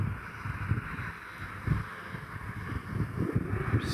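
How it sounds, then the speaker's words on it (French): Wind buffets the microphone in low, uneven gusts and rumbles, a steady blustery noise with no voices. "Puis ce soir, le vent qu'on a,"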